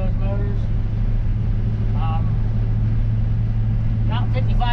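A 6.2-liter diesel engine in an M1008 CUCV military truck drones steadily and loudly while cruising down a road, with a constant low rumble and road noise and faint voices briefly audible over it.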